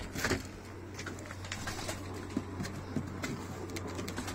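Pigeons cooing softly among other bird chirps in a loft, with a steady low hum underneath and scattered clicks and rustles throughout.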